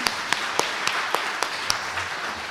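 Church congregation at a Sunday worship service clapping in a slow, regular beat, about eight distinct claps spaced evenly over a quiet room tone.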